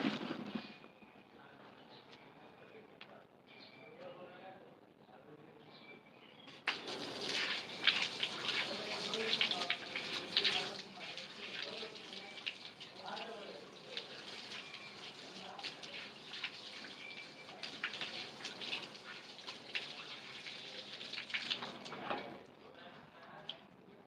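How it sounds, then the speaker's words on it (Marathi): Hands washed under a running tap: after a few quiet seconds, water gushes steadily and fairly close for about fifteen seconds, then cuts off, while a voice talks throughout. "मी हात धुतो"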